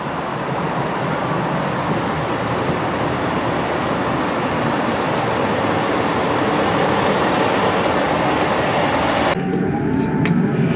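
An Arriva Trains Wales Class 158 diesel unit departs Telford Central station, a steady loud rumble and wheel noise heard from on board that continues throughout before cutting off near the end.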